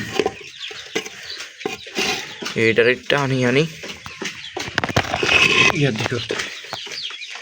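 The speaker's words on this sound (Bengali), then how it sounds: "তো এগুলো সবাই খাইতে আছে এখানে মোরগ" Chickens and roosters cluck softly while feeding, their scattered calls running beneath a voice that talks over them for most of the stretch.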